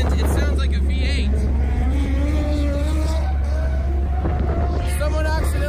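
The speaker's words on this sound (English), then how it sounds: "he moved the radiator to the back, and it sounds like a V8" A loud, rumbling V8-swapped Z drift car engine revving up and down nearby at a drift demo at Circuit of the Americas, with people talking over it.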